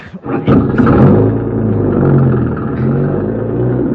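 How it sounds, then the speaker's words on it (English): A car engine turns over and catches, then settles into a steady low rumble as the vehicle pulls away down a country road, loud and close throughout with a slight swell in revving. "Start her up and go down the road away."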